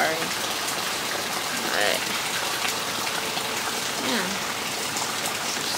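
Steady heavy rain pours during a hurricane, a dense continuous hiss of water with a brief voice speaking faintly over it.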